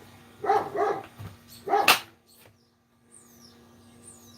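A dog barks three times close by, two quick barks then a louder single one, before it falls quiet with faint background sounds.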